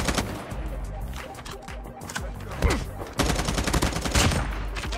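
Rapid automatic gunfire in Call of Duty Mobile, dense loud bursts of shots crackling almost continuously throughout, with brief explosive impacts mixed in.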